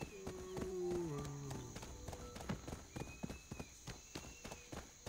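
Hooves clip-clop in a steady rhythmic gait as a horse is ridden in the online fantasy game Black Desert Online, with soft musical tones over the start and the hoofbeats continuing clearly to the end.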